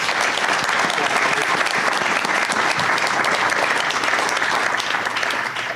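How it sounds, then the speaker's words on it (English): A town hall audience in Pewaukee gives panelists a big round of applause, dense sustained clapping filling the room loudly and evenly for several seconds before easing off. "Can we give our panelists a big round of applause?"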